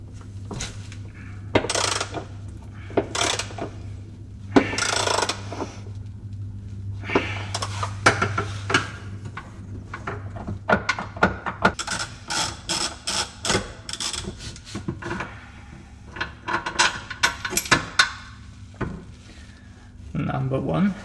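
Wrench undoing 13mm hex bolts on the fuel tank mounting straps of a Jaguar S-Type, a string of sharp metallic clicks and clanks scattered over the clip, with a faint low hum underneath.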